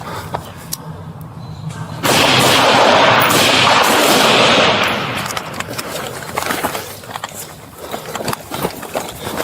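Gunshots fired by police at a suspect in a park, a loud burst of blasts near the start followed by fainter scattered shots and noise.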